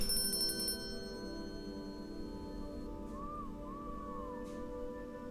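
A soft electronic chime rings twice as a bell is rung in the game Thief 2, with gentle warbling tones over a quiet, steady background hum.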